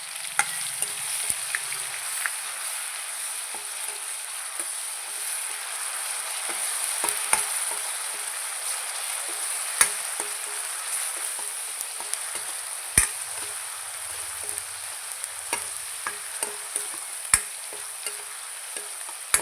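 Cumin seeds with ginger, garlic and onion paste frying in a pan, a steady high sizzle with scattered sharp crackles and pops throughout, fairly quiet and without any talk.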